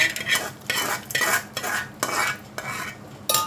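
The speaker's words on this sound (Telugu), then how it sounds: "ముందు తాలింపు వేసి కలుపుకుంటాను" Tempering being stirred through cooked rice for pulihora in a pot, a spoon scraping and clinking in steady repeated strokes, each a short burst of clatter, close and clear with no talk.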